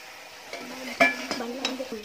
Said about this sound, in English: Guys, mix it well.